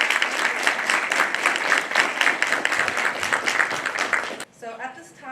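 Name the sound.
round of applause at initiation ceremony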